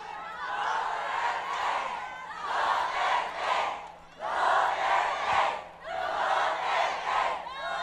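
A rally crowd of Sara Duterte supporters chants and shouts in unison, loud and close, in four rhythmic surging phrases with short pauses between them.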